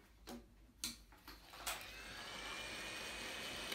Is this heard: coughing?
no